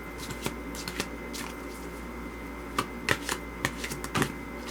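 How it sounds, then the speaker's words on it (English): Oracle cards are shuffled by hand, giving soft steady riffling with crisp snapping flicks and taps scattered throughout, close and fairly quiet with no talking. "So let me start by shuffling and seeing what we get for this week."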